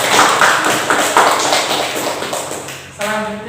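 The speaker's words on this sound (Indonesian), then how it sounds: "Jadi tepuk tangan untuk kelompok 1." Classroom applause for a student group after their presentation, a burst of many hands clapping close and loud for about three seconds, fading near the end before a brief tonal sound.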